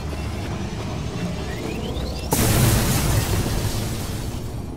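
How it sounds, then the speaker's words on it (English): Explosion in the video game Mass Effect 2: a rising whine builds over a low rumble, then a sudden loud blast hits and leaves a lingering roar that slowly fades. "Or explosion, okay."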